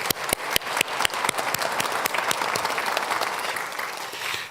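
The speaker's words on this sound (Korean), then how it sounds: "인사할 때 우리 크게 박수 치겠습니다." A church congregation at a Korean Sunday worship service breaks into loud, sustained applause, with sharp individual claps standing out early before blending into a steady wash of clapping.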